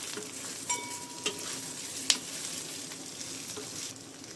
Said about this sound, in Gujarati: હવે આપણે આને વઘાર સાથે મિક્સ કરી દઈશું